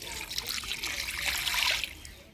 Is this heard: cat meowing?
no